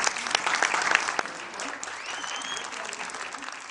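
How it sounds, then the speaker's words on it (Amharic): Warm applause from an audience at an Ethiopian award ceremony honouring athletes, dense steady clapping throughout, loudest early and holding at an even level to the end. "ሞቅ ያለ ጭብጨባ።"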